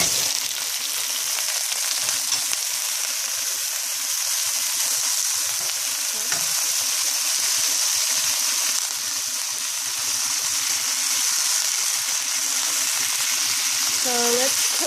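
Ground beef fries in a well-heated oiled pan for empanada filling, giving a loud, continuous close-up sizzle with faint scraping underneath.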